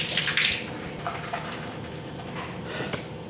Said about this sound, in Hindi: उसके बाद हम इनको पानी से गीला कर लेंगे।